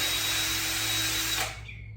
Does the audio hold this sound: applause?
no